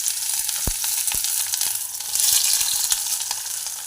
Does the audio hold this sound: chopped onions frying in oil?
yes